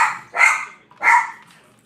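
A dog barks twice from close by near a house, each bark loud and sharp with a short gap between them, and no talking over them.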